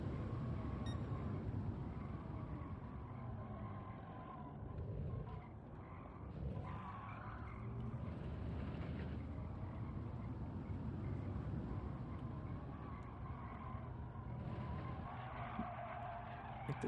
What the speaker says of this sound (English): All the screeching of tires.